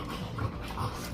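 Dogs pant and whimper affectionately up close, quick breathy pants with soft whiny notes in a short continuous burst, with no talk.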